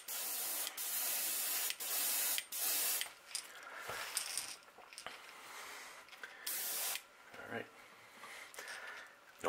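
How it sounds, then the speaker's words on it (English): An airbrush sprays paint onto a crankbait fishing lure in short repeated hissing bursts, close and sharp, with quieter gaps and soft handling noises between them. "Very lightly, spray a little bit of shoulders and let the overspray come down over the blue"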